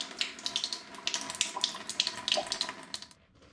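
Tap water rinsing the outside edges of a 5-litre glass cider fermenting vessel holding apple and pineapple hard cider, a close steady splashing trickle that stops abruptly near the end.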